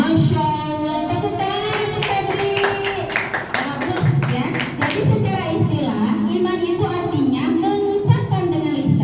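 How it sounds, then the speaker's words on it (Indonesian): A classroom applauds a student, with a few seconds of dense clapping from a group of people mixed with talking voices and some scattered taps. "tepuk tangan untuk Febri"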